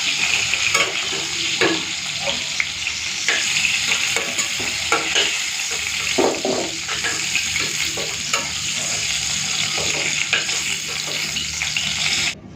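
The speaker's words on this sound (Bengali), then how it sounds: "এই যে আলু আর পটলটাকে পুরো লাল লাল করে ভেজে নিয়েছি," Potatoes and pointed gourd fry in hot oil in a pan, giving a steady close sizzle broken by scraping stirs of a spatula, with no talking.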